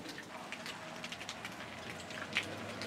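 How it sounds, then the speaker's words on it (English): A light morning rain shower falls in a steady, soft patter, with scattered close drops ticking out now and then against the even wash. Nobody speaks. "we've been getting just a light shower of rain this morning"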